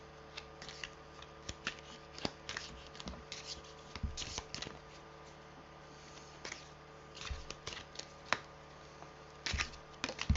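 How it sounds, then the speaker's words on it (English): A large deck of about 200 tarot cards is shuffled close up, with soft repeated riffling and flicking clicks in irregular bursts, quiet and alone. "There's like 200 cards in this deck, and it's just too much to hold when we're trying to shuffle them."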